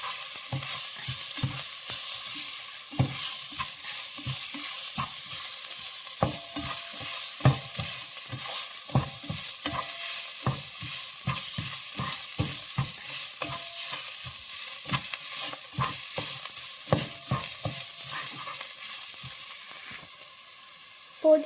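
Garam masala and turmeric powder sautéing in a pan for chicken biryani, a soft sizzle under a long run of rhythmic spatula scrapes and taps, close and regular, with no talking.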